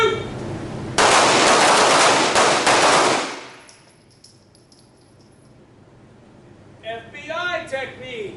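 Handguns fired during a night shooting drill in a combatives class: a loud, dense volley of overlapping shots lasts about two seconds, then fades to quiet before a voice speaks.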